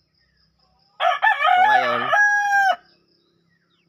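A rooster crows once, loud and close, with harmonic squawking as a tikling bird chases small black chickens in a backyard, followed by quiet.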